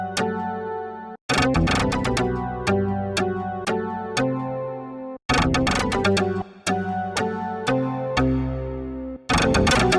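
Loud, heavily driven synth chords pushed through Ableton Live 12's Roar distortion with the drive turned up. The chords repeat in punchy bursts separated by brief silent gaps, gritty and saturated throughout.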